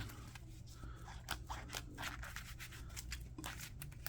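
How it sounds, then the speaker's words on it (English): A deck of trading cards for a tabletop card game is shuffled close up, giving a continuous run of quick crisp riffles and snaps over a steady low hum, with no talking. "first we wanna get our deck shuffled up"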